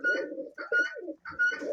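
Pigeons in a dovecote coo close by in soft, throaty repeated phrases with brief pauses between them.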